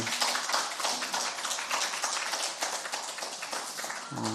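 A church congregation claps steadily and densely throughout, filling the room with sustained applause.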